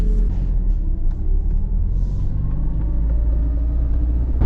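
A Nissan S13 with an SR20 engine drives along on a test drive, giving a steady, loud low engine and road rumble that stays even throughout, heard from inside the car with no talking.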